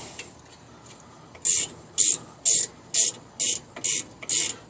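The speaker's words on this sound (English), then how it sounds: "I got a little ratcheting device in this wrench and it works pretty nice." A ratcheting 1/2-inch wrench turns a brake bolt on a 1998 Jeep Grand Cherokee Laredo 4.0 4x4. It gives seven crisp, evenly spaced ratchet bursts close up after a short quiet start.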